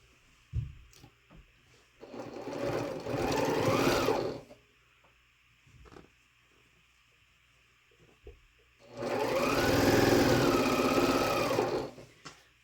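A sewing machine stitches a quilt block in two close, steady runs of rapid mechanical whirring of a few seconds each, separated by quiet pauses with small clicks as the fabric is handled.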